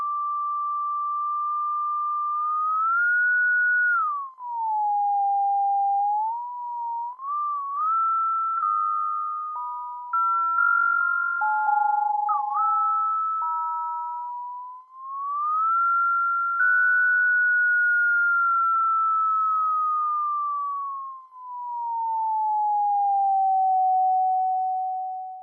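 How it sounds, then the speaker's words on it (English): A pure sine tone in Unreal Engine 5 MetaSounds, modulated by mouse movement, glides and steps up and down in pitch for about twenty-five seconds, steady, clean and alone. "when you click the mouse and move it around, it feeds that into a sine wave"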